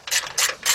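Three quick, close ratcheting bursts from a ratchet working a 13 mm brace bolt on a Chevy Tahoe, crisp clicking strokes in even rhythm.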